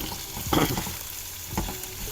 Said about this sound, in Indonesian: Kita masukkan labu, kemudian buncis, kita aduk dulu